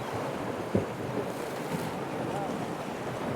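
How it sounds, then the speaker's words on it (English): A winter crosswind blows across a rocky sea shore during cod fishing, a constant broad roar of wind buffeting the microphone with surf in the background and one brief thump near the start. "This crosswind's making it really tricky to fish"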